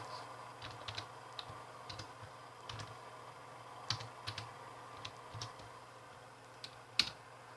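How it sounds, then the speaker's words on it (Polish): Someone types a city name on a computer keyboard, giving sparse, uneven key clicks with a few sharper taps, close and quiet over faint room hum, with no talking. "I wpisujemy nazwę swojego miasta, gdzie chcemy się dostać."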